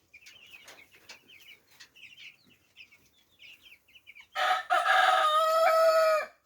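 Two-week-old broiler chickens on a farm, with soft scattered chirps and clucks for several seconds, then a loud close burst of dense crowing and squawking that fills the last two seconds.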